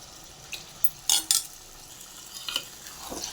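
Chopped ingredients are stirred in a pan with a few brief scrapes and clinks of a spoon over a faint, steady sizzle, the loudest bursts coming close together midway.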